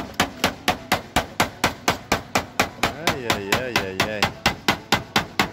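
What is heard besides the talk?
hammering sheet metal on a roof valley seam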